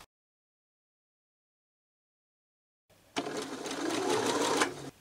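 Sewing machine stitching a sweater sleeve, a fast steady mechanical whirr that starts abruptly after a long silence and runs for under two seconds at close range, with no talk.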